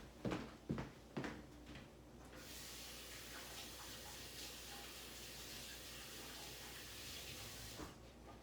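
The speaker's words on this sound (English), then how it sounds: "I'm going to wash my hands" Hands being washed under a running kitchen tap, a faint steady rush of water after a few brief knocks and handling sounds at the start.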